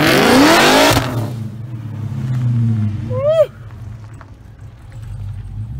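An LSA-swapped box Chevy lets out a loud, harsh burst of revving and tire spin, then settles into a deep, rumbling idle with a brief whistling sweep.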